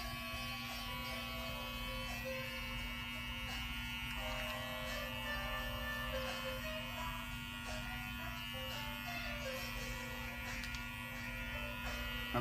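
Electric hair clippers hum steadily through a clipper-over-comb haircut, a constant close buzz with slight shifts as the blade moves through hair, no voices.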